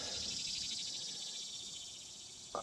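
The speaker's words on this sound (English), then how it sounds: "I'm pretty sure y'all can hear the little cicadas and birds chirping" Cicadas buzz in a steady, shimmering drone on a morning outdoors, faint and distant, with a brief bird chirp near the end.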